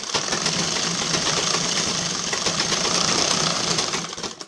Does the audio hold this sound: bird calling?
no